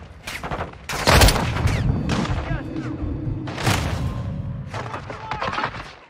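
Gunfire in Call of Duty: Modern Warfare 2 sounds as several loud bursts of shots and booms, spaced irregularly, with rumble between them.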